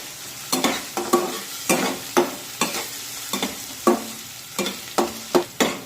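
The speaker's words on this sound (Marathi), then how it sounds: "कांद्याला उलटण्याने सतत परतत राहायचं, म्हणजे मग तो सगळीकडून व्यवस्थित एकसारखा भाजला जातो" Onion sautés in hot oil with steady sizzling while a spatula scrapes and turns it in a regular rhythm, about two strokes a second, close and clear with no talking.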